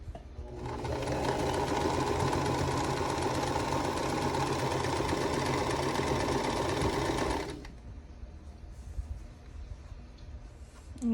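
A sewing machine stitches a quilt block in one steady, loud, continuous run of about seven seconds, its fast mechanical hum stopping abruptly, followed by quieter room sound.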